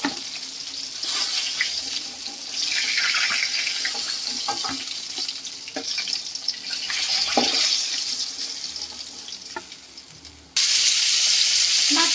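Whole fresh pond fish frying in hot oil produce a steady close-up sizzle and crackle with occasional stirring clinks, ending in a louder, brighter hiss.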